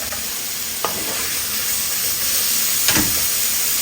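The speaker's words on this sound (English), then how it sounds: "so it just softens up the onions and releases some liquid so it doesn't burn." Onions fry and soften in a pan for a beef mince keema stir fry, giving a steady close sizzle and hiss with a couple of brief stirring scrapes.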